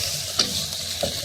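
Soy sauce and another sauce frying in a hot pan for Chicken Manchurian, giving a steady close sizzle with a couple of brief stirring clinks, and no voices.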